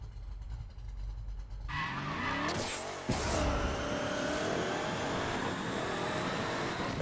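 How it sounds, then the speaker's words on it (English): Dragster engine in the Need for Speed Payback video game revs hard and loud, with a burst of tire squeal partway through, then holds a sustained high roar to the end. "now that I've finally got my dragster up and running"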